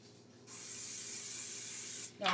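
Non-stick cooking spray hisses into a pan in a home kitchen, one smooth, moderately faint burst lasting under two seconds before a brief handling rustle.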